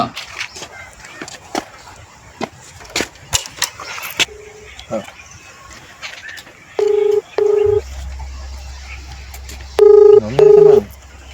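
Phone keys tapped, then short paired electronic tones sound twice, with faint clatter and background noise before them.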